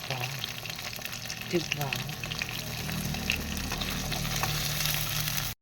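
Sliced ham fries in a pan for fried rice with a loud, steady, close sizzle and occasional stirring, while a voice speaks briefly over it before the sound cuts off abruptly.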